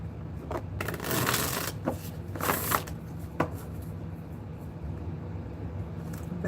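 A deck of cards is shuffled several times, giving short riffling bursts and a few sharp snaps, with quiet gaps between them.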